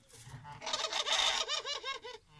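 Hens clucking close by on a small poultry setup, a quick run of rising, repeated clucks and squawks that builds in the middle and then tapers off, with nothing else heard.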